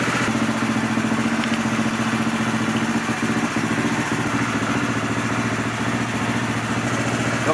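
An AJP PR7 motorcycle engine idles steadily at around 1000 rpm during servicing, with a constant mid-low mechanical hum and even pulsing, close and alone with no talk.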